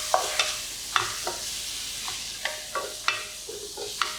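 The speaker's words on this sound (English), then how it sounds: "Stir fry a little bit and season with fish sauce." Seafood drunken noodles are stir-fried in a pan with fish sauce, a soft sizzle broken by about a dozen sharp, close spatula clinks and scrapes at an irregular pace.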